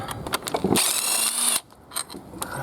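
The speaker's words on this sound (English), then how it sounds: "what we'll do now is we'll remove all the bolts" Ratcheting tool work removing bolts from a 2005 Mini gearbox: close, rapid clicking ratchet bursts, then a sustained whirring spin of about a second, followed by a few more short clicks.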